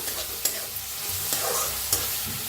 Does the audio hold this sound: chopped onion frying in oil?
yes